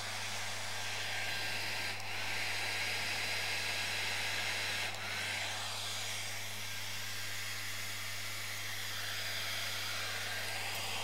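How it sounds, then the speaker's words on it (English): A hair dryer blows with a steady, loud whooshing roar and a low motor hum, running continuously with slight shifts in airflow. "if I take my hairdryer"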